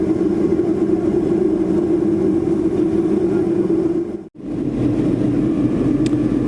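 Steady engine drone inside a small airplane on a short flight arriving at Petersburg, Alaska, a constant loud cabin rumble with one brief dropout partway through.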